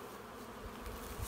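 Honey bees buzzing around an opened beehive as frames are pulled from the honey super, a steady low droning hum that stays close and even, with no talking over it.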